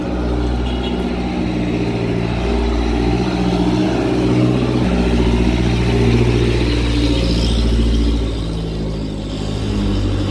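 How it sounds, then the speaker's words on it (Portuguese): A truck engine rumbling close by as it drives past, a steady heavy low drone with a slight swell in the middle before easing off, loud and continuous with no talk. "Esse caminhão, galera. Olha o barulho igual o da van do meu pai."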